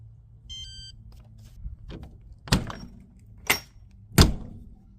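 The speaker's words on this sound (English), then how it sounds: "Now I'm going to enter the pin in." Close, quiet taps on a door keypad lock of a 2024 Forest River Surveyor RV, with a short electronic beep early on and then several sharp clicks and thunks spaced about a second apart.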